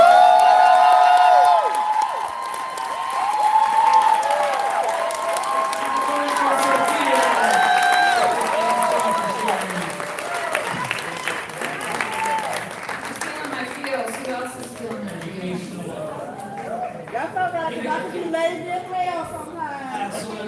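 An audience at an open mic night applauds and cheers a performer, loud and dense at first, then thinning out as voices and chatter rise over the fading clapping.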